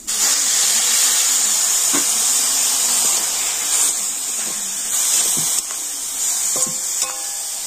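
A coconut and sugar filling for pitha sizzles and hisses steadily in a pan after a little water is added, with occasional scraping taps of a stirring spoon and no speech.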